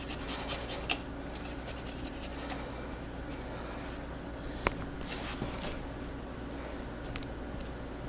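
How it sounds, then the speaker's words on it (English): Moringa being grated by hand straight into a cooking pan, a steady close rasping scrape running through the whole stretch with a couple of sharper knocks, no talking over it. "I'm just gonna get my grater and I'm just going to mince this over directly into my pan"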